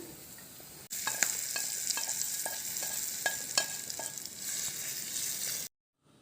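Onions with curry leaves and turmeric stirred in a hot frying pan for a brinjal roti chutney: a steady close sizzle with repeated scraping spoon strokes, ending abruptly.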